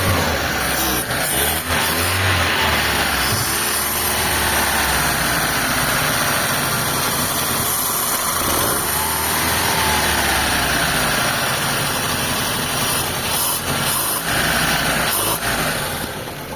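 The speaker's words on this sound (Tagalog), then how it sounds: "start ulit natin, namatay yung makina natin mga boss" A Mitsubishi Lancer with a 4G13 engine, running weak and lacking power, is restarted and idles loudly up close, a continuous rough engine hum with periodic knocking pulses and slight surges, without any talk.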